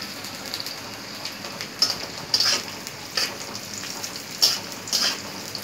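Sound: onion and chili frying in a pan

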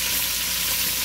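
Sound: lamb sautéing in a pan

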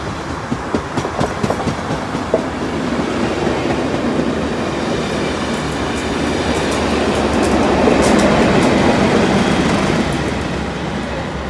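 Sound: train led by locomotive 9703 passing junction

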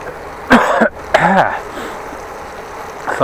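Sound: coughing

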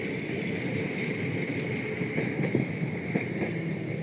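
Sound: tram passing by

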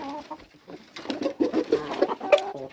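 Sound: rooster calling hens

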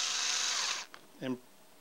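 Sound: power drill running in reverse

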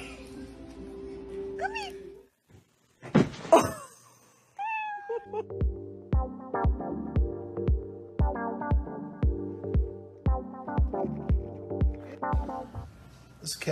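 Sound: cat squeaking and meowing

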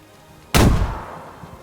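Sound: grenade explosion in video game

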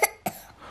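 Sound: child coughing while pretending to be examined with stethoscope

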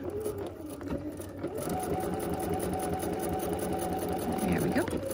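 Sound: sewing machine backstitching a bag pocket

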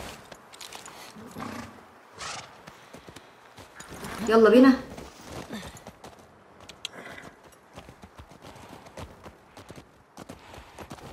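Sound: horse hooves clip-clop while riding in The Last of Us video game

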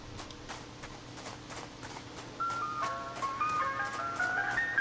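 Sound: Siren Head creature's sound in Siren Head video game

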